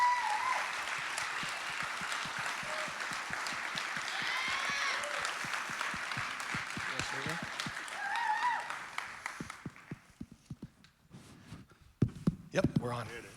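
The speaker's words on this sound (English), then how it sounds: "if you guys can give them a round of applause" A crowd applauds for Antwan and Michelle at the SFS Celebration 2024, with dense sustained clapping that thins out near the end, leaving a few scattered claps and some nearby talk.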